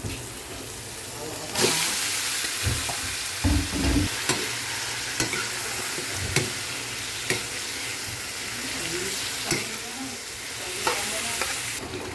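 Chicken pieces dropped into a hot pan with toasted garlic and onion, sizzling and frying steadily with occasional stirring clatter, close and continuous.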